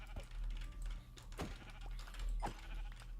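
Sheep in the Minecraft video game bleat twice, with distinct wavering calls over a low steady background hum and faint clicks.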